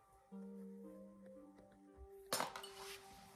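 Broken glass clinking inside an abandoned building: a few ringing glassy taps with lingering tones, then a sharper scraping clatter of shards, close and fairly quiet.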